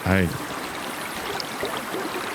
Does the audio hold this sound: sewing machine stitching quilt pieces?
no